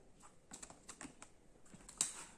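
Tarot cards laid out one by one on a table, soft faint taps and slides in a short irregular sequence, close but quiet.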